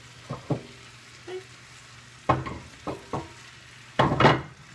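Crackling sizzle of yellow and green squash frying in a pan, with irregular bursts of spattering and a louder flare near the end, no voices.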